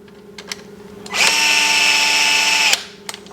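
A power driver with an auto clutch screws a part into an RC car trailing arm, giving a close, loud, steady whir that lasts under two seconds, framed by small clicks before and after.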